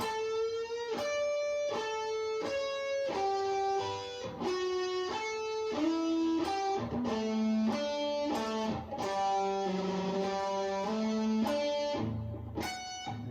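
A sustained electric guitar lead plays a solo, a melodic line of held, bending notes in two-part harmony, ringing continuously without pause.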